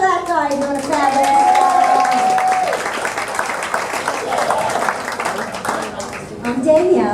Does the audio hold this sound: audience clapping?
yes